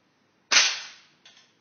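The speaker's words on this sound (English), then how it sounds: "So I'm going to shoot in a spot on my target." A single rifle shot fired at a target while zeroing a scope, loud and close, with a crack that decays quickly, followed by a fainter echo.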